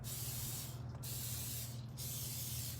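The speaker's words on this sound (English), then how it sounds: "I'm going to spray these with a little bit of oil." Two short hissing bursts of cooking oil from a spray can onto crab cakes in a home kitchen, each lasting about two seconds with a brief pause between, set against a low steady kitchen hum.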